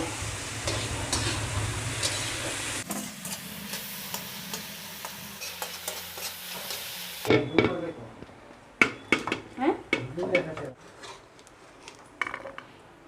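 Shrimp sizzle in a pan with salt for mixed fried rice, a steady hiss, followed by sharp clinks and scrapes of a utensil against the pan.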